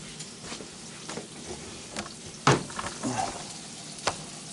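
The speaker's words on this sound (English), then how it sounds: "I've got these over here sauteing" Vegetables sautéing in a pan while an oyster burger is being made, a steady faint sizzle with a few brief clinks and scrapes of a utensil, no talk.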